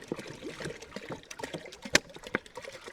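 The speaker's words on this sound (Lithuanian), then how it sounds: "Pasiruošim pirmiausia vandens pilną kibirą." Water poured into a bucket to open a tin of surströmming, with irregular splashes and trickles at moderate level and no talk.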